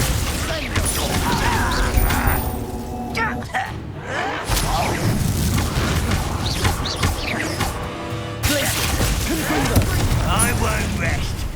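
Confringo fire-spell blasts in the video game Hogwarts Legacy: loud crashing bursts and thuds mixed with mechanical clatter and game effects, with voices talking over the combat.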